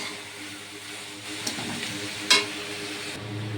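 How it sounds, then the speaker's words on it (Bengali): Banana flower curry, cooked with lentil fritters, sizzles softly in a pan while a spoon stirs it, giving a faint steady frying hiss with a couple of light scraping knocks. "দেখো সুন্দর একটা কষানো হয়ে গেছে।"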